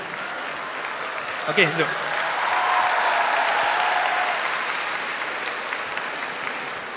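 At a Malaysian entrepreneurship gathering at UKM, an audience keeps up a steady wash of applause throughout, with a brief spoken instruction near the start over the clapping.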